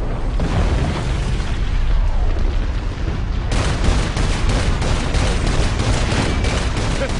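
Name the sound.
explosion in video game Saints Row 4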